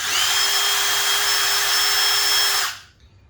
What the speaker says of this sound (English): and then drill mode for